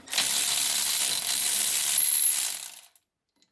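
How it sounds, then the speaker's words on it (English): A ratchet wrench works a caliper bolt loose on a Chevrolet Silverado wheel hub, giving a rapid, continuous clicking whir for about three seconds, close and alone before it stops. "So now we're gonna remove the caliper bolts."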